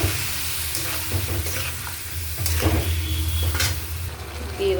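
Masala sizzles steadily in a pan after a splash of water, with a spoon scraping and stirring through it in irregular strokes, close and fairly loud, no voices.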